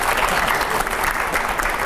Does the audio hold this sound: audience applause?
yes